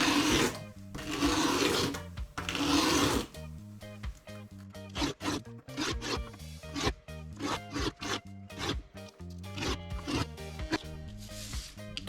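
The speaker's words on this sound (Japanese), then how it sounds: "削るときは均等に削るために一方方向からではなく少しずつ回しながら削ると良いです" Hand filing of a gas blowback airsoft pistol part for a VFC M17 as the part is turned bit by bit: close, rasping strokes in a quick irregular rhythm, with a longer, heavier scrape at the start.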